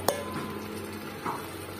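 Spiced masala for a mutton curry with fried potatoes, briefly stirred in a pan, with a soft background sizzle, a sharp utensil scrape at the start and another clink of the spoon against the pot a second later.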